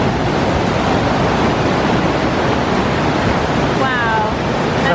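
The powerful Cascade de Lourdes waterfall in the French Pyrenees roars as a loud, constant broadband wash of falling water close by, with a brief high whistle-like sound near the end.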